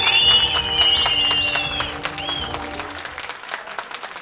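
An audience applauds an award announcement at a Darıca community awards ceremony, steady clapping that starts full and loud and slowly thins and fades toward the end.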